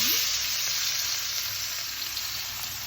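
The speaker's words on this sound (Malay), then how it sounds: "sekejap lagi saya akan goreng sebentar dekat dalam minyak panas" Steady, loud sizzling of eggplant frying in hot oil in a wok, a continuous crackling hiss close by with no talking.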